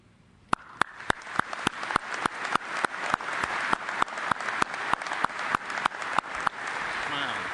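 An audience at the FDIC 2011 fire service conference award ceremony applauds, the clapping swelling steadily and holding, punctuated by sharp, evenly spaced clicks throughout.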